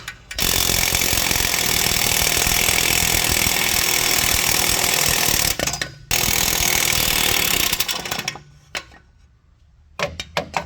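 An electric impact gun takes out transmission bolts on a Mercedes W221 S550 with a 7G-Tronic gearbox. It hammers loudly and continuously for about five seconds, pauses briefly, runs again, then stops with short bursts near the end.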